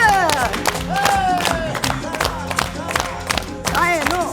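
Zumba class participants clap together in rhythm to upbeat dance music, sharp regular claps over the beat while an instructor's voice calls out.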